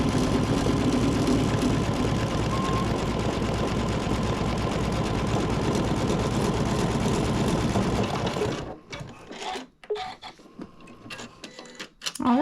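An embroidery machine stitches a bottom piece down in the hoop for dog poop bags, a loud steady rapid mechanical whir for about eight seconds before it stops, leaving faint clicks and handling noises.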